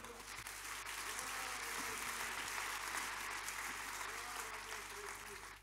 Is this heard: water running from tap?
no